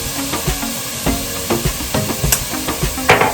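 Onions and peppers sizzle in hot oil in a pan, a steady close crackling hiss broken by repeated clicking and scraping stir strokes at a loose, uneven rhythm.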